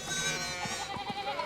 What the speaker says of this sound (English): we need to get these sheep under control